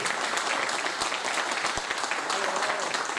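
An audience applauding steadily, a dense wash of clapping throughout.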